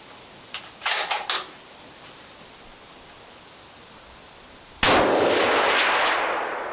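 Three sharp rifle shots ring out in quick succession from a DPMS LR-308 fitted with a Miculek muzzle brake, outdoors. A single louder, close report follows and then decays into a long rushing tail.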